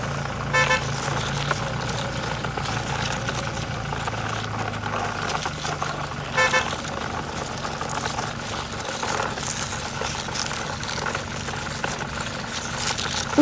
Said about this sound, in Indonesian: Namun, mobil pemadam terus melaju dengan penuh semangat.